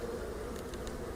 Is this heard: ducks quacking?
no